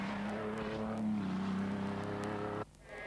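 An Audi Sport quattro race car pulls away hard at the Shelsley Walsh hillclimb, its engine roaring loudly and steadily up through the revs, then the sound drops off suddenly near the end.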